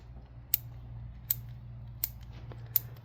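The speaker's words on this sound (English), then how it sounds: "Really solid ratcheting action." A Suzume offset ratcheting wrench clicks four times in an even rhythm, each a crisp, close metallic snap over a quiet low hum.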